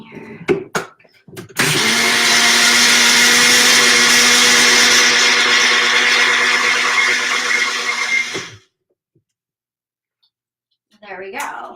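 A countertop blender whirs loudly and steadily for about seven seconds while blending bulletproof coffee, starting abruptly after a few clicks of the lid and cutting off cleanly into silence.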